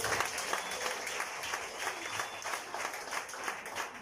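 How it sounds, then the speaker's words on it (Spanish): Church congregation applauding in praise, a dense steady wash of many hands clapping throughout, moderately distant with no speech over it. "damos un aplauso al Señor por algo."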